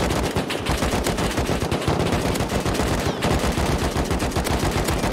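Dense, continuous automatic gunfire from multiple weapons during a player-versus-player fight in the survival video game Rust, loud rapid bursts overlapping for the whole stretch with no pauses.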